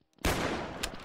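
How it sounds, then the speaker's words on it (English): Gunfire aimed at police during a SWAT shooting: a sharp loud blast that rings on as a dense, sustained burst, with a second crack near the end, and no talk over it. "Shots fired at the police."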